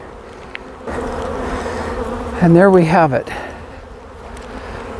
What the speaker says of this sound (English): the front of this hive is just boiling with bees